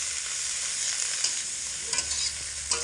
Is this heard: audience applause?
no